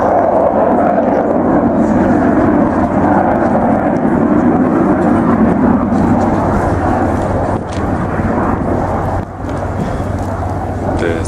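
A Lockheed C-130 Hercules flies at an airshow, its loud steady propeller-engine drone filling the air continuously while a commentator talks over it on the public address.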